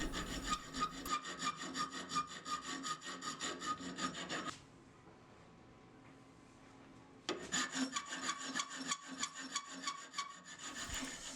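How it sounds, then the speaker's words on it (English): A hand file rasps across the finger choil of a steel knife blank in quick, regular back-and-forth strokes, close and fairly loud, stopping for a few seconds before the rhythmic filing resumes. "Now I'll use a file to dial in the finger choil."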